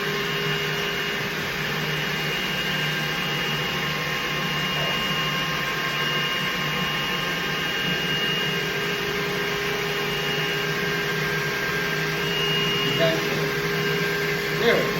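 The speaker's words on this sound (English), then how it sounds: "So instead of having a bucket and a wringer, a wet dry vacuum, this little guy is gonna get it ready to wax." A wet dry vacuum drones steadily and loudly while sucking up water from a floor during floor stripping, with a constant tonal whine throughout and a few faint knocks near the end.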